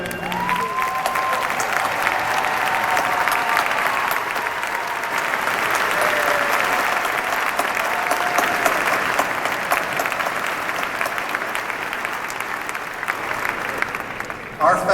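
A commencement audience applauds standing faculty members, steady sustained clapping from a large crowd in a big hall, even and continuous for the full stretch, slightly fading at the end.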